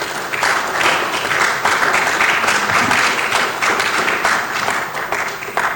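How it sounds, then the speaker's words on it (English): Loud, sustained applause from a seated audience at an executive dialogue on technology transfer in agriculture, welcoming a panelist to the stage; dense clapping carries evenly throughout with no speech over it. "we give him a round of applause"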